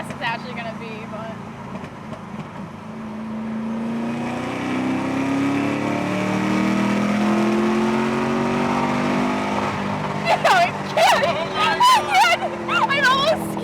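A naturally aspirated 750hp 416 engine pulling hard through the gears, heard from inside as a rising, droning engine note that climbs steadily and sustains, with a driver talking excitedly over it near the end.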